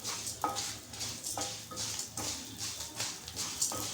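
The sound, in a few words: red and green chillies frying in a pan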